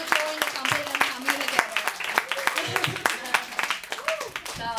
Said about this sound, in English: I would like to every Toastmaster here to give him a big warm applause.